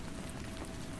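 Rain falls steadily in a dense, even hiss of drops, continuous and close, with no voices.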